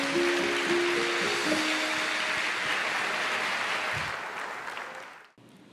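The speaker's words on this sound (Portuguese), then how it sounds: "Você pode aplaudir o Senhor?" A church congregation applauds, a broad, sustained roar of clapping with a held tone underneath that fades toward the end and cuts to quiet.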